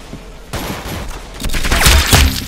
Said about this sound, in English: Good shot, mate. You got his head.